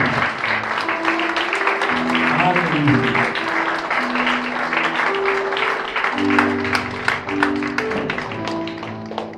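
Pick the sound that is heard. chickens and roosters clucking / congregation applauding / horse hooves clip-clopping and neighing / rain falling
congregation applauding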